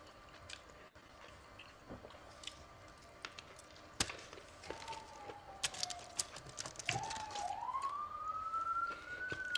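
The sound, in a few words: police siren in New York City street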